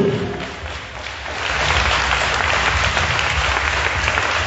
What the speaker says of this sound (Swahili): Mpige Bwana Yesu makofi ya dhabihu.